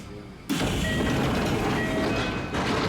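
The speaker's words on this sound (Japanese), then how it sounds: "ドアの音にビビりつつ" A Hanshin Namba Line train door at a small station slides shut with a sudden loud whoosh, followed by steady rumbling and faint warning tones.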